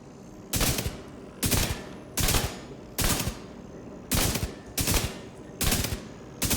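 Kingbreaker rifle firing in The Division 2 video game, eight loud, evenly spaced bursts of gunfire, each a short rattle of rapid shots with brief pauses in between.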